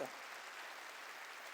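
Church congregation clapping along during a Korean sermon, a dense steady wash of applause held at even loudness throughout, with no speech over it.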